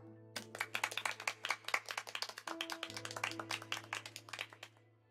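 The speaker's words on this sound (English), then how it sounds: "Why are we clapping?" A handful of characters in the video game Honkai Impact 3rd clap over a steady low electronic hum, quick crisp claps close up in a lively burst for about four seconds before they stop.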